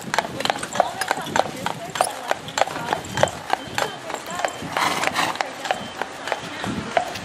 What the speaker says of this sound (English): That was a horse and buggy.